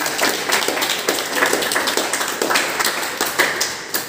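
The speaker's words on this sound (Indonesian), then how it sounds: "Oke, kasih tepuk tangan." Classroom students clapping in a practical teaching lesson, a loose burst of individual claps with audible separate strikes, fairly close and loud, continuing unevenly for several seconds.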